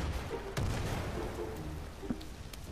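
A grenade goes off in Far Cry 5 with a sharp blast and a rumbling low boom, followed by a smaller pop a moment later over steady outdoor game noise.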